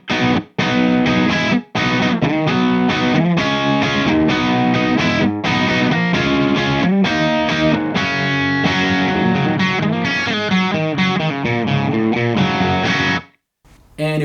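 Electric guitar through a Mesa/Boogie Recto-Verb, clean channel with gain at three o'clock and tone controls at noon, plays loud overdriven bluesy chords and riffs with short pauses, ending with a brief silence and a final strum.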